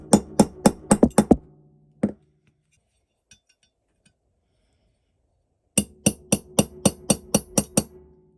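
A hammer drives a brass punch against the bolt catch of an AR-15 lower receiver: a quick run of about seven sharp metallic taps, a lone strike, a quiet pause, then another steady series of ringing blows, close and distinct.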